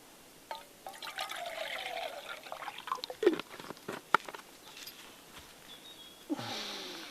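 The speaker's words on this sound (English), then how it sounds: "I'll stick some water" Water trickles and splashes into a small camping pan on the Kungsleden trail between Nikkaluokta and Abisko in northern Sweden, coming in a few short, uneven pours with light clinks of metal, close and fairly quiet.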